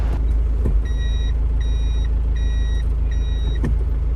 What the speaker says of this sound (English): when you put it in reverse, it does beep.